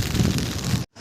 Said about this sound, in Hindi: और ये देखो किस तरह की बारिश आ रही है, अब तेज़ आ रही है यार, तेज़ आ रही है